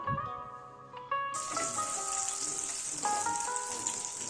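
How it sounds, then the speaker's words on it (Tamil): Butter drops into a hot kadai and starts to sizzle, a sudden bright hiss that stays loud and steady after a quieter opening, with clinks and tones from the kitchen in the background. "கடாய் சூடானதும் பட்டர் சேர்த்துக்கலாம்"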